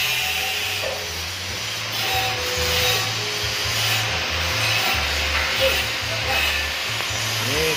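A CNC machine cutting glass gives a steady grinding, rasping hum with a motor drone underneath, constant and close, while a voice speaks intermittently over it.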